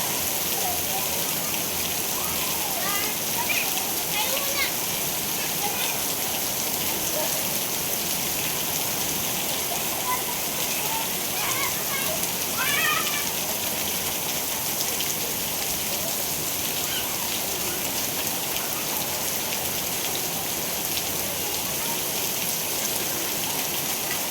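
Heavy rain pours down in a steady, dense hiss on nearby surfaces. It keeps up without a break the whole time, with faint scattered calls or voices mixed in the background.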